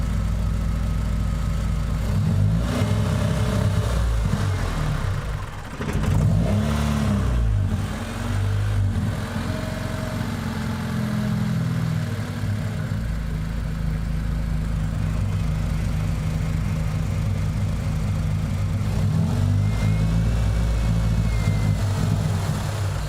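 A tuned Honda engine runs for a long stretch as the throttle is eased open slowly, giving a steady, loud drone with wavering pitch. The revs rise and dip unevenly and stumble near the point of stalling, with a brief sag partway through.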